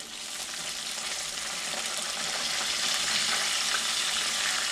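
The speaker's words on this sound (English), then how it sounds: "I like to rotate them a little bit as they're frying here in the oil." Continuous, bright crackling sizzle of buffalo wing loin nuggets frying in hot oil, steady and close, growing slightly louder, with no talking.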